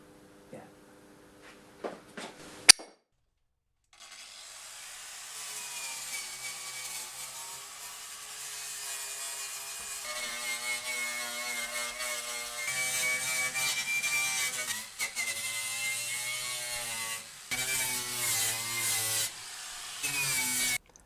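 A power-tool wire wheel scrubs rust off the chassis legs of a 1967 MGB, a steady whirring, grinding rasp. It starts after a few faint knocks and a sharp click, then runs on with short dips and shifts in pitch.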